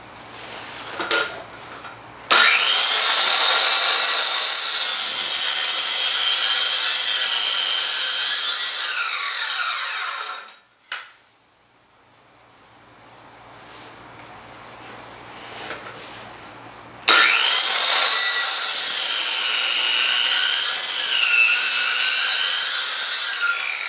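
A circular saw rips through timber for a timber frame RV carport in two long, loud passes, the blade whining steadily as it cuts, with a short pause between cuts and no talking.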